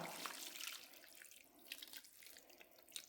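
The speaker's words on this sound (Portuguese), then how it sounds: "agora eu venho colocando a água aqui, ó" Water pours into a baking pan over homemade mozzarella curd in a country kitchen, making a soft, faint trickling and splashing with small drips.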